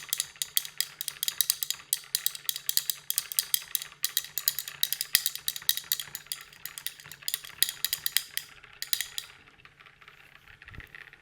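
Frothy chamomile flower paint mixture being stirred rapidly, a dense run of quick rattling, clicking strokes in a fast steady rhythm close up, thinning out near the end.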